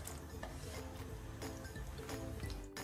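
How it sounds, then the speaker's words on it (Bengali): Chopped onions sizzle in hot soybean oil and ghee, a faint steady crackling fry with occasional soft stirring scrapes, heard alone. "তেলটা গরম হয়ে আসলে আমি পেঁয়াজ কুচিগুলো দিয়ে দিব"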